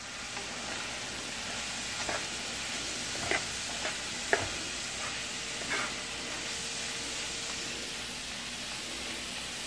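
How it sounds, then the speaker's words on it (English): Ground beef and onions fry in a pan with a steady, moderately loud sizzle, broken by a few soft clicks and scrapes of stirring. "we're cooking up some ground beef and onions"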